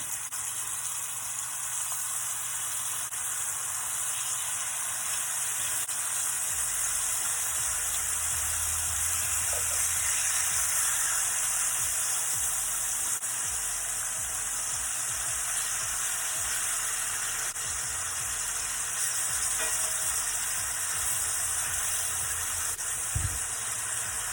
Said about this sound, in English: we're going to place our very well seasoned center cut pork chops right on in.